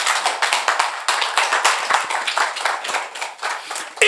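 A church congregation claps steadily together in acclaim of the Lord, a dense, continuous patter of many hands keeping an even rhythm throughout.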